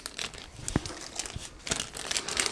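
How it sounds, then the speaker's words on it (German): Plastic AMD bag from a CPU box being handled during a PC cooler unboxing, irregular bursts of close crinkling and rustling with a few sharper crackles, no talk. "Jetzt müssen wir uns aber nochmal die AMD-Tüte nehmen."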